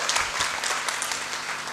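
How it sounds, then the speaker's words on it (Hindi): Loud, steady applause from a live audience greeting an honored guest at a Hindi-language event, dense clapping sustained throughout without any talk. "ज़ोरदार तालियां बजा दें"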